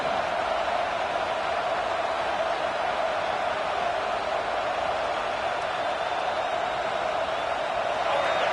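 Home stadium crowd in a college football video game, Tennessee versus Georgia, a steady broadband roar of cheering held at an even level throughout, with no talk over it.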